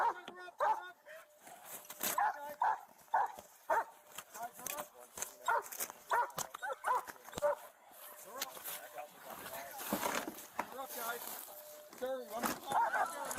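A police dog barks repeatedly in short, loud bursts during a tense arrest outdoors in snow, with officers shouting commands over the barking throughout.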